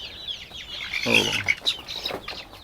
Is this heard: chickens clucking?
yes